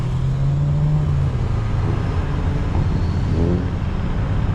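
Cars race past at a street car meet. A steady, loud roar of engines and traffic fills the clip, with one engine droning low and another revving briefly near the end, and no talking.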